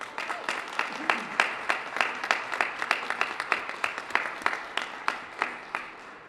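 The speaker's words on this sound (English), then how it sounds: "if you'd keep that applause rolling" Audience applause at an HRC 2018 Municipal Equality Index launch event in Milwaukee, Wisconsin, a sparse room of individual claps in quick, irregular succession, moderately close and unaccompanied by talk.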